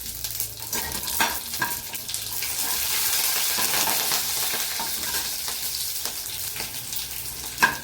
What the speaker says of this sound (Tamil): கடுகு நல்லா பட்டுன்னு பொரிஞ்சதும் அது கூட பச்சை மிளகா 2, காஞ்ச மிளகா 2.